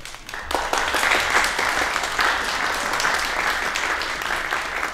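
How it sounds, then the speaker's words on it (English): Audience applause welcoming a guest at a luxury travel and hospitality panel discussion in Dubrovnik, Croatia: a full, sustained burst of many hands clapping after a brief quiet start, steady throughout. "A well-deserved applause."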